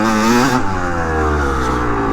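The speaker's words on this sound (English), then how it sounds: "Been a minute since I've been on a 2-stroke 250." A 2-stroke 250 dirt bike engine revs loud and close. A sharp high-rpm blip drops after half a second into a rough, buzzing idle that carries on alone.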